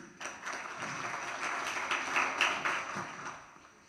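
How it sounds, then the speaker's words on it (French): Audience applause at a conference on blockchain for exporters, a steady spread of many hands clapping at moderate distance, rising slightly midway and fading toward the end, fairly faint overall. "Vos applaudissements, s'il vous plaît."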